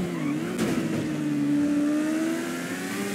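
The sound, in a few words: Kawasaki Ninja H2R superbike engine revving in GTA 5 video game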